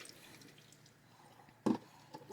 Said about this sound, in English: There it goes for a quick rinse.